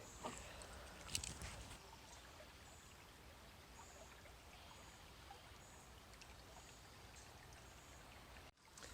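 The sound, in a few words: babbling brook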